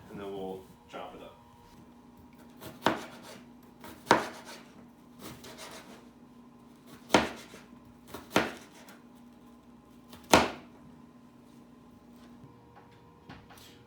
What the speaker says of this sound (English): now we're going to cut up this onion